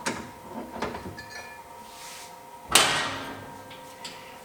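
A metal cabinet door on a Qpol XL automatic grinder-polisher opens with a few light clanks and rattles, then gives one sharp louder bang midway, close by in a quiet room.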